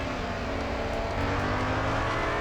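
Racing video game car engine holding a steady, buzzing drone with a slight rise in revs partway through, close and continuous with no talk.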